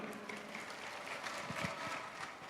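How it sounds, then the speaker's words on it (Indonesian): Steady, light applause from a crowd at a Muslimat NU congress, a continuous patter of clapping with a few louder claps standing out near the middle. "Tepuk tangan untuk perempuan."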